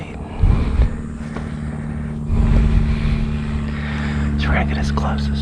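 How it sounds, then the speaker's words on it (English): An airplane drones overhead with a steady propeller hum that swells midway, heard from outdoors at a hunting spot where a person talks over it. "This dang plane."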